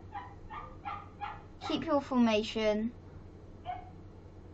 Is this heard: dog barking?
yes